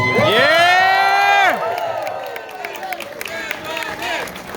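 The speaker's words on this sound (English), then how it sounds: "Let's give her a round of applause." A crowd at a 2020 campaign town hall in Las Vegas breaks into loud cheering with shouted whoops, then settles into sustained applause and scattered calls.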